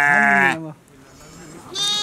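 A sheep in a large forest fold in Nepal gives a loud, close bleat, followed by a brief quieter pause and then the start of a second bleat, with faint talk in the background.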